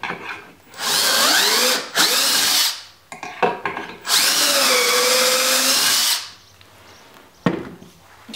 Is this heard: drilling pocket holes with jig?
yes